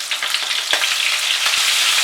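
Pointed gourd (potol) frying in white oil in a kadai with turmeric scattered over it, giving a steady close hiss of sizzling with a few soft stirring clicks throughout.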